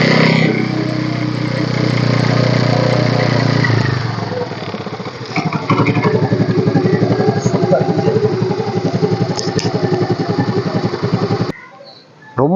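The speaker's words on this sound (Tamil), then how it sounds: "வாங்க இன்ஜின் ஸ்டார்ட்." A 2014 Honda Activa scooter engine starts up and settles into a steady, close idle that putters evenly for several seconds before cutting off.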